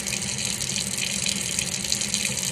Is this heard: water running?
yes